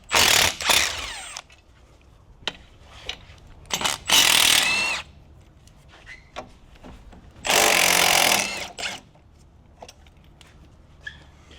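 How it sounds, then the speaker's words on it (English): An impact or power tool undoes 12 mm bolts holding the caliper lines on an Infiniti G35/G37 front suspension, firing in several loud bursts of varying length separated by quieter gaps with faint clicks and clinks. "I'm gonna undo these 12s that hold the caliper lines on"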